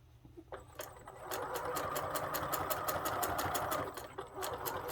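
A sewing machine back-stitches a patch onto jeans: a fast, steady run of close needle strokes lasting a few seconds, starting and stopping near the microphone.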